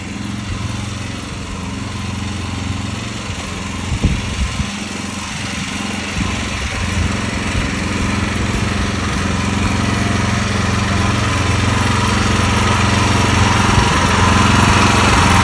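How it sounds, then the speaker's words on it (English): A small generator engine drones steadily and loudly nearby, a constant mechanical hum that stays unbroken throughout. "It's a little hard to hear here with that generator going"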